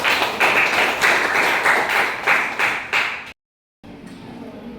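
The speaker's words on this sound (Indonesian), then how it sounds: "Kita kasih aplaus dulu" Applause for a group presentation in a classroom lesson, a steady rhythmic round of clapping from a group that breaks off abruptly, followed by a quiet room.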